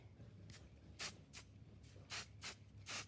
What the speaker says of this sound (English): And then spray that in place.